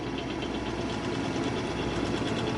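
An Anycubic Chiron 3D printer with belt-driven axes runs with a continuous, rattly mechanical whirr and rapid rhythmic clatter, close and steady with no talking.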